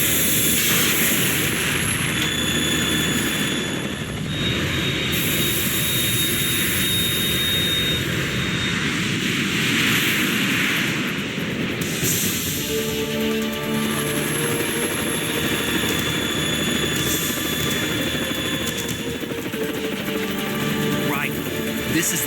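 A Harrier jet in Metal Gear Solid 2 gives a steady, loud engine roar that holds throughout, with voices talking over it.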